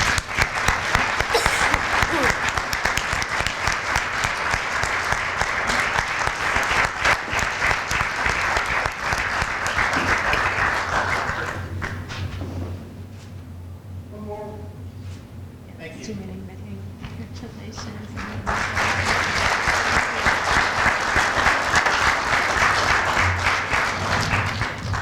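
Audience applause at an alumni award ceremony, a sustained loud wave of clapping that fades briefly in the middle while a voice speaks, then swells again to full strength.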